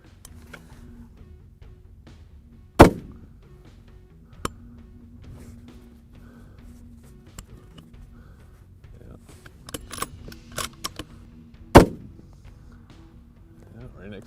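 Custom-built Pilum T-1 rifle firing on a range, two sharp, loud single shots spaced well apart, with faint background noise, small clicks and a voice talking quietly between them.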